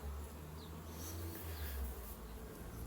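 Honey bees from a swarm with a marked queen hum in a steady, dense drone close by, continuous throughout with no talking.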